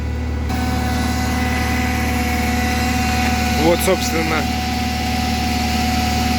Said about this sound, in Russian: Бензиновый двигатель работает очень мягко.